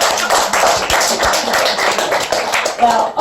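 Audience applause at a live stage show, dense steady clapping that fills the whole stretch at close range with no clear break.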